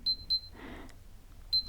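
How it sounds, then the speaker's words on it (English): A Nothing Phone (1) gives short, bright notification beeps, two quick tones, a brief soft rustle, then another beep, close and clear in a quiet room. "then it will just beep on the bottom here"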